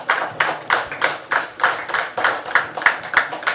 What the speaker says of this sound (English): We can have a standing ovation for our chairman,